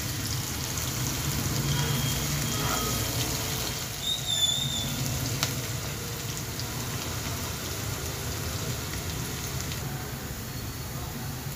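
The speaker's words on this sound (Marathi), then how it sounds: "कांदा छान परतून घेणार आहोत." Chopped onion sautéing in a pan for sprout curry, giving a steady, close sizzle that holds at an even level throughout with no talk.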